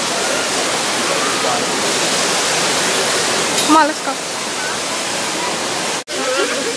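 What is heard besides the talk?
large waterfall in Puerto Rico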